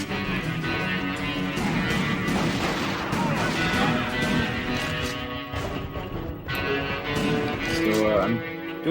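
Repeated heavy gunfire in a video game, blasts against big enemies with crashing impacts, running dense and loud throughout beneath someone talking.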